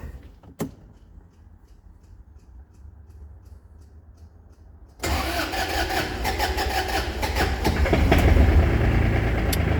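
An ISEKI GEAS27 mini tractor with a cab sits quiet with a faint click, then its engine cranks and catches abruptly, settling into a loud, close, steady idle that grows slightly fuller toward the end.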